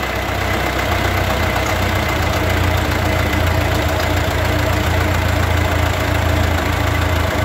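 A Ford 8N tractor engine idles steadily and close by, its low, even chugging running without a break and with no voices over it.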